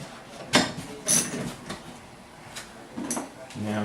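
A metal bolt is fitted into the top hole of a bracket, giving a few short scraping and clinking knocks at close range, spaced apart, with a voice faintly present.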